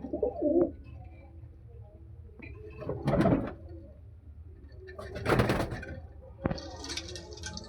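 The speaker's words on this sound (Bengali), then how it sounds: "তো আমি দেখিয়ে দিই একবার মোটামুটি পায়রাগুলো আপনাদের" Pet pigeons on a hot rooftop in Nepalganj coo in several separate bursts, close by, with soft scraping and rustling between the calls and no talking.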